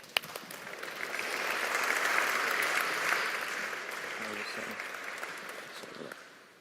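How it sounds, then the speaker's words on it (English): A speaker is welcomed to the stage at a FANUC UK automation event with a round of applause that swells, holds steady and then thins out. A few voices murmur beneath the clapping toward the end. "Big round of applause"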